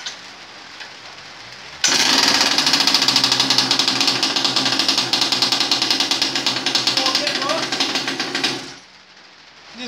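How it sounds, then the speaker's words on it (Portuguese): A mini motorcycle that drips gasoline and starts poorly fires up and runs with a loud, rapid, knocking putter for about seven seconds, then is shut off, leaving a low background hum. "Vou dar a partida para vocês verem como é que ela está pegando aí, certo?"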